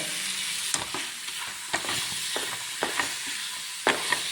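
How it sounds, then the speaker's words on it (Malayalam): Mango bread pudding being stirred in ghee in a pan, with soft scraping strokes and light clicks at irregular intervals over a faint, steady sizzle, close and fairly quiet. "നന്നായി ഇളക്കി കൊടുക്കാം"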